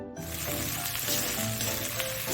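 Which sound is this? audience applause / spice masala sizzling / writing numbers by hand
spice masala sizzling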